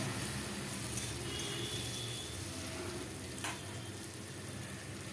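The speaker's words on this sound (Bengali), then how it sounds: "এর মধ্যে আমি ভেজে রাখা আলুগুলো দিয়ে দিলাম" Steady sizzling of pre-fried potatoes going into a frying tomato mixture for a banana-flower and prawn curry, a continuous hiss with faint clinks, no talking.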